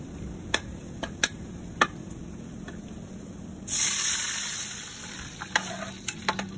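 Water poured into a pan of browned garlic sets off a sudden loud hiss that fades over a couple of seconds, with scattered utensil taps on the pan before and after.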